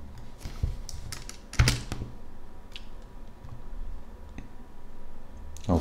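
Someone types a value into a computer keyboard while setting up a particle effect in After Effects, giving a run of close, crisp key clicks and thunks with a louder tap in the middle, no voices.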